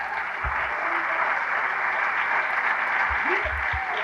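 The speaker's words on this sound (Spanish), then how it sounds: "¡Dale un aplauso al Señor mejor," A church congregation claps in a steady wash of applause, with a few faint thumps and brief vocal sounds from people in the room.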